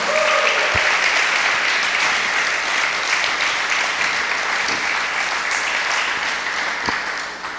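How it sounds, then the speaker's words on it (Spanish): Church congregation applauding in praise of the Lord, a dense, steady roar of many hands that holds loud throughout and tapers slightly at the end. "¿Puedes darle un aplauso al Señor por esto,"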